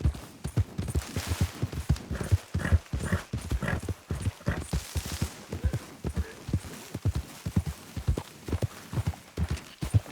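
Galloping horse hooves in the western video game Red Dead Redemption 2, a fast, loud, rhythmic thudding that runs steadily throughout, with no talking.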